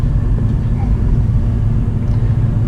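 An ordinary road car drives on the Nurburgring, its steady low engine rumble and road noise droning loudly from inside the cabin.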